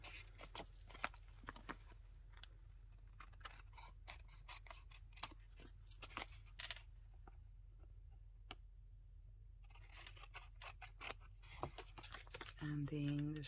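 Scissors snip off overlapping paper edges while making a booklet, giving a series of quiet, crisp close-up cuts and clicks in irregular bursts with a pause midway, under soft talking.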